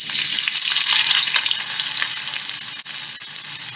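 Onion frying in a pan for pepper lamb, a loud, steady close-up sizzle with soft stirring crackles running throughout and a brief dip near the end.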